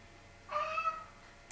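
A single short cat meow, fairly close and clear, rising briefly out of a quiet room.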